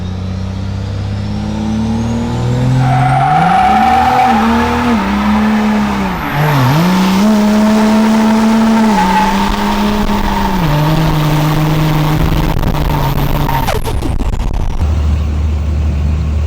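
A 3rd Gen Cummins diesel truck does a limiter burnout at a dragway, engine roaring loud and close with pitch rising and falling at the rev limiter, tires squealing underneath, then cutting off near the end.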